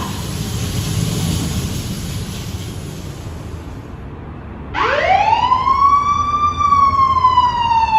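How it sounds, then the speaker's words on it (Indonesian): A siren sweeps up sharply and holds a loud, piercing wail over low rumbling traffic noise. "Pemadam kebakaran."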